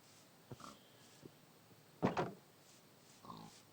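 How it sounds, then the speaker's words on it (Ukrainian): A few short grunting oinks from pigs in Minecraft, scattered across the clip, with one louder burst in the middle and quieter ones around it. "О, ще свинки."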